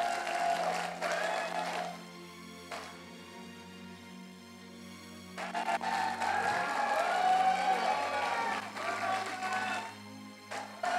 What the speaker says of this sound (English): Please applaud them off.